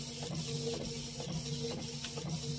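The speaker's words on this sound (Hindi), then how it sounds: "तो देखिए ये प्रिंट होकर निकल रहा है मेरा," A printer runs a bank passbook through at a customer service point, giving a steady close mechanical whir with regular rhythmic clicks and ratcheting pulses, no voices over it.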